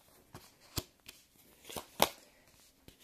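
Tarot cards being shuffled and cut in a quiet room, giving a few separate crisp riffles and slaps, with the loudest burst about two-thirds of the way through and no voices.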